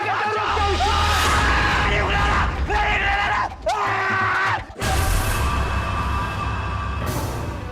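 A man screams in a Hindi drama series, with loud, strained yells held for several seconds, broken by brief gaps and close to the listener.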